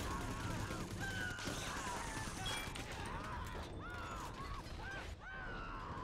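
Machine gun fire and explosions in a fast-paced video game, a dense, continuous clatter of shots layered with game sounds and tonal effects throughout.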